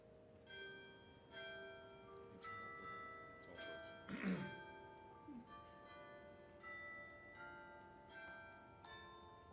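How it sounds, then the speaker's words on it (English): Carillon bells ring out a slow, stately patriotic hymn, struck notes sustaining and overlapping, with a brief louder clang partway through. "I'm just going to play a couple of things on the Carillon"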